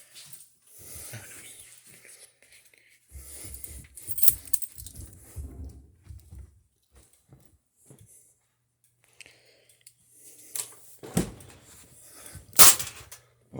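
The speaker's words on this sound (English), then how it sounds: "Now I'm going to grab my keys." House keys jangle and clink in a basement during a home fire alarm system test, coming in short bursts of rustling metal near the mic, with one sharp loud clack toward the end.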